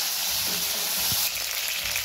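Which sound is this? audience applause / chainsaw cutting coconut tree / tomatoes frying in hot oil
tomatoes frying in hot oil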